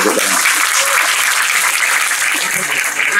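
Audience applause at a crowded evening discussion gathering, dense clapping heard close and loud that holds steady for a few seconds with some faint voices beneath it.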